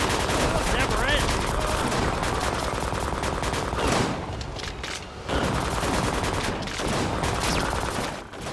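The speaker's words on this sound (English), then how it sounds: "Fire! Keep firing!" Sustained gunfire in the light-gun video game Disaster: Day of Crisis: loud, rapid volleys of shots firing almost without pause, briefly dipping midway before resuming, with voices shouting over the din.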